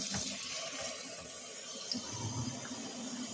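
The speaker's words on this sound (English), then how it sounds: "Now, after I pour in my bleach or vinegar, what I'll do is turn the water on." A household tap runs water into a sink or drain, a steady hissing splash that holds for the whole few seconds with no talk.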